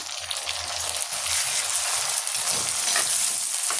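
Chopped tomatoes go into onion and garlic sautéing in a pan for a brinjal thokku, raising a loud, bright, steady sizzle that swells slightly toward the end, close by with no talking.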